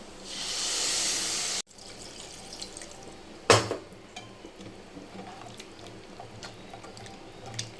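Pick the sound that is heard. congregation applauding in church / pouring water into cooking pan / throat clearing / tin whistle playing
pouring water into cooking pan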